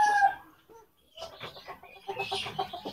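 A silver pheasant calls in short clucking bursts at a bird farm, close and fairly loud, with quiet gaps between calls.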